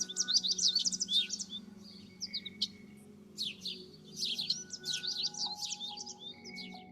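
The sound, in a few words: birdsong played from a birding by ear lesson video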